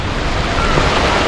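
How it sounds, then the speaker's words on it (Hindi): Heavy rain pours steadily at the flooded Meena Bazar underpass, a loud dense hiss of falling water and wind with no letup, recorded close by. "बारिश बहुत तेज़ हो रही है, बहुत ही स्पीड से बारिश हो रही है"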